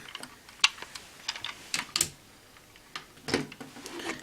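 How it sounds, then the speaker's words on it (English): Plastic pieces of a Go-Buster Oh combining toy click and snap together in a quiet room, a series of short sharp taps and snaps at uneven intervals, close and fairly crisp. "Just align them and snap them together."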